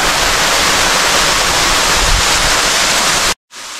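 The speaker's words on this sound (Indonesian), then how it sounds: "Ini saya akan coba langsung minum dari aliran air terjun ini." Waterfall stream at a camping spot, a loud, dense, steady rush of falling and flowing water that fills the scene, then cuts off abruptly near the end before resuming briefly.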